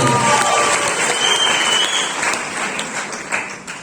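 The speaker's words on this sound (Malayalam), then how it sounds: "അവർക്ക് നല്ല കൈയടി" Steady applause from an indoor crowd honouring business leaders at a company meeting, dense clapping throughout that eases slightly toward the end.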